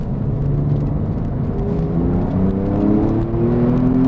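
A Porsche 911 Carrera S with Tiptronic in manual mode pulls hard in second gear, its engine note rising steadily and loudly with continuous rumbling whir as revs climb, close and without talk.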